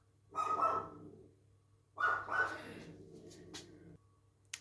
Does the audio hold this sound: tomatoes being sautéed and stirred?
no